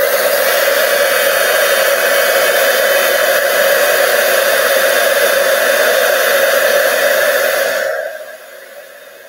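An embossing heat tool blows a loud, steady hot-air roar while melting embossing powder on a card sentiment held in reverse tweezers, running continuously and then cutting off near the end, leaving quieter residual noise.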